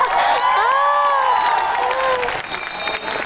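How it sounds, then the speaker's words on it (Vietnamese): Studio audience applause and cheering on a Vietnamese Tet comedy game show, a steady loud roar of clapping with whoops, a voice riding over it and brighter cheering rising near the end. "Đây, vỗ tay Thiên Ngân."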